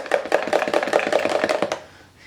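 Spoon stirring yogurt in a bowl or cup, a quick run of about nine rhythmic clinking scrapes, close and distinct, then stopping.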